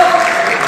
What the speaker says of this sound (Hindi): ये जरा सारे C ग्रेड वाले मेरे ताली बजाते हैं।